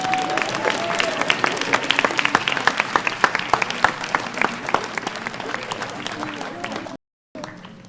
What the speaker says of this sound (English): give a round of applause to your TEDx Executive Board of 2016